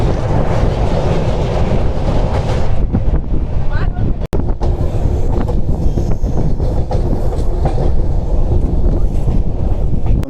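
The Samaleswari Express 18005, on its Howrah to Rayagada run in Odisha, rumbles along the rails with a loud, continuous roar and heavy wind buffeting, recorded up close from the moving train, with voices faintly mixed in.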